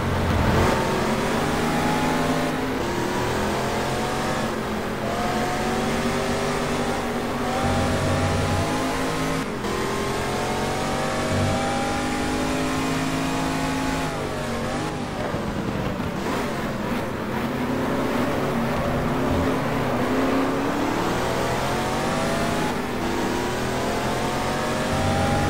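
Racing car engines from the video game GT Legends roar and rev continuously, the pitch climbing through the gears and dropping sharply at each shift, loud and close with no talking.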